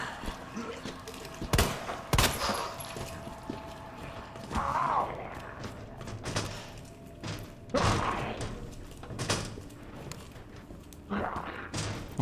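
Scattered gunshots in the video game Resident Evil 2, a few sharp isolated bangs spread across the stretch amid thuds and quieter game sounds.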